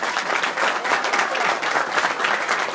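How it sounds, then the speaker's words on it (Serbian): An audience at a village church feast and procession applauds a group of young male singers, a dense, steady wash of clapping from many hands that fills the whole moment without a break. "Molim vas jedan veliki aplauz za ove mladiće."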